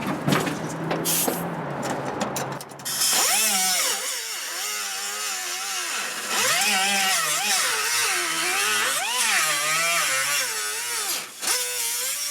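A Sawzall reciprocating saw cuts into rusted metal, with a harsh buzzing rasp at the start that turns into a loud, wavering, droning whine as the blade bites and labors through the corroded steel.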